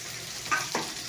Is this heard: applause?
no